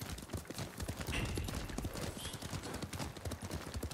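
Galloping horse hooves in Ghost of Tsushima, a dense, fast clatter of hoofbeats that runs steadily throughout at close range, with no talk.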